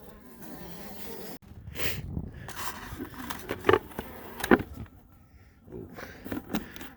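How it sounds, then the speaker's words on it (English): Honey bees buzz around an opened hive during a winter hive check, a close, fluctuating drone of wings with individual bees swelling louder as they fly near. "Oh, there's a bee."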